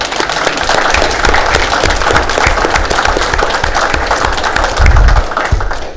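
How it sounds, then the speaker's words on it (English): Close, loud clapping from a group at a city council meeting, with heavy thumping hand claps and a few taps mixed in, steady throughout. "let's give them all a round of applause one more time"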